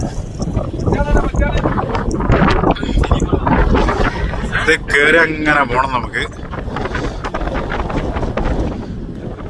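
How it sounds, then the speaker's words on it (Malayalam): Strong wind on top of a tower buffets the microphone with a loud, continuous rumble and roar, under someone speaking throughout. "ഈ ടവറിന് മുകളിൽ ഭയങ്കര കാറ്റ നമ്മളെ പിടിച്ച് കൊണ്ടുപോകുന്ന രീതിയിലുള്ള ഒരു കാറ്റ്"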